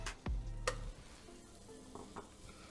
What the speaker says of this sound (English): we're going to take 3 tablespoons of butter and we're going to melt that out